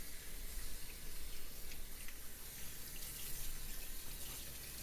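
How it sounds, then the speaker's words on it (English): Tap water runs into a kitchen sink for a thorough rinse, producing a steady, close, broadband splashing hiss that continues unbroken throughout with no voices. "just give the sink another very thorough rinse"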